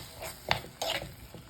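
A spoon scrapes through prawns chilli with tomato ketchup and soy sauce in a pan, giving a few soft, quiet stirring clicks over a faint sizzle.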